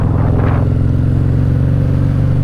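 Victory motorcycle engine while riding, a loud steady low-pitched drone with a brief rise in revs near the start.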